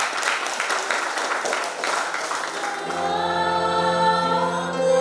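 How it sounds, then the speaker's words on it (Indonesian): A wedding crowd applauds with dense, steady clapping for about three seconds, then the clapping gives way to sustained musical tones. "Kita berikan tepuk tangan yang meriah."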